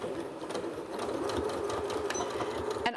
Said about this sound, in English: we're gonna sew straight down the sides